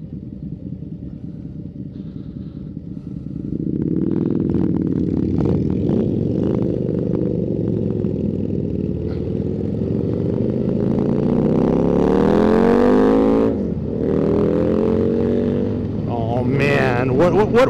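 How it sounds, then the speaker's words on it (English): A Harley-Davidson motorcycle's loud exhaust roars in close after a quieter idle at the start, holding a deep, throaty rumble that swells and dips as the engine is revved, with a brief drop near the end. "What is the Harley guys with the exhaust? That's just not right. Too loud."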